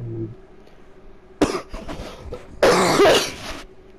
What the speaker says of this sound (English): Is that an actual cough?